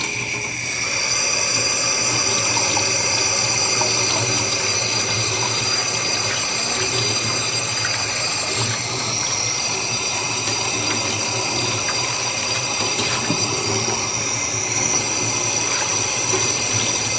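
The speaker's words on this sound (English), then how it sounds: "first what I do is wash the water bowl out" Water from a running tap splashes steadily into a bird's water bowl being washed out, a loud, continuous close rush with no pauses.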